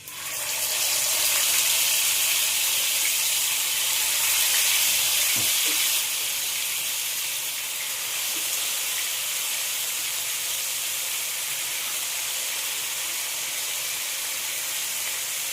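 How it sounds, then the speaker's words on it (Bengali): Marinated chicken pieces for a tandoori gravy masala hiss loudly in hot oil, a steady broadband sizzle that eases slightly partway through, with a brief faint clink near the middle and no voices. "এবার আমি চিকেনগুলো একে একে দিয়ে সব ভেজে নেব"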